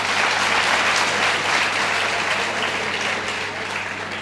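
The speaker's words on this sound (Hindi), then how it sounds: "सबसे पहले मैं चाहूँगा कि आप रोहित भैया के लिए जोरदार तालियां बजाएं।" Loud, sustained clapping from a hall audience at an academy felicitation ceremony, a dense wash of hands that eases slightly toward the end, with no speech over it.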